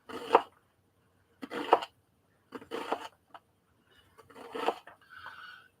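An onion being cut into wedges with a knife on a board: four crisp, separated chopping bursts at a steady pace, close and clear, with a faint thin ring near the end.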